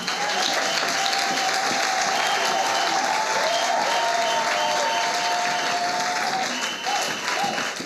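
A church congregation applauds throughout a Sunday worship service. The clapping is dense and sustained, with a steady wash of crowd noise and some cheering, while a sustained tone runs faintly underneath.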